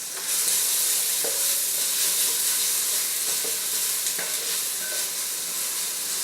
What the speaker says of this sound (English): now I'm going to add 2 heaped teaspoons of a paste made out of just plain red onions